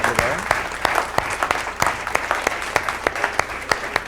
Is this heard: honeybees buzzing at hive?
no